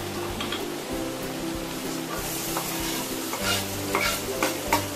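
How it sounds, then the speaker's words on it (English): Olive oil heats in a frying pan with a steady, close sizzle and crackle, the hiss rising and falling slightly over a low rumbling background, with no talking. "So I'm going to put some more olive oil in this pan."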